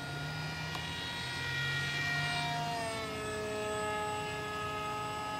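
An RC model Chinese J-20 jet plane flies at high alpha with a steady whining ducted-fan hum, its pitch sliding downward as it passes at moderate distance.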